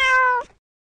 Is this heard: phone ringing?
no